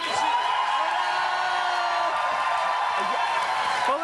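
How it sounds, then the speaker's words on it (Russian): A television studio audience shouts and cheers in a sustained, loud roar with a steady tone running through it, heard close and continuous for the whole span. "Вот ты слышишь, вся студия кричит."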